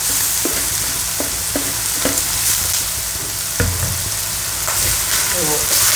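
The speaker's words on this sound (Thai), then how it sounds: "ผัดเลยค่ะ" Washed raw rice being stir-fried in a pan for Thai fried rice, a steady loud sizzle with repeated scraping stirs of the spatula throughout.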